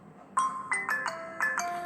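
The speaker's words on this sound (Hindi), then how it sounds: "ये रिंगटोन है इसकी।" Ringtone of a Jio Phone LF-2406: a series of bright electronic chime tones with a melodic rhythm, heard alone at a modest level.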